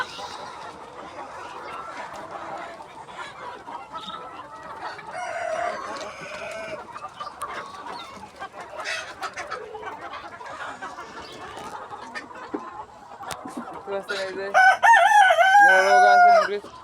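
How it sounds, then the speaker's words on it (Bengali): Chickens and roosters on a poultry farm with roughly one rooster per ten hens, clucking through a busy background before a loud rooster crow rings out close by near the end. "মানে 10টা মুরগির একটা মোরগ থাকে।"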